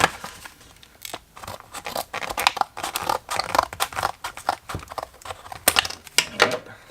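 Scissors snipping and cutting open plastic product packaging up close, with irregular crisp clicks, tearing and crinkling bursts, no talking.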